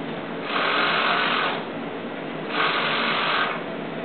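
A sewing machine stitching mesh fabric for leggings, running in two short bursts of steady whirring with a brief pause between, close and clear.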